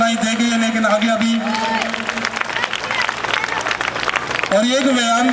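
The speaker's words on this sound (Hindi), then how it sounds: "आपकी तालियां बराबर आनी चाहिए क्योंकि बच्चों ने बहुत मेहनत की" Audience clapping at a school Independence Day function, a steady wash of applause from a crowd with voices and babble mixed in throughout, loud and sustained.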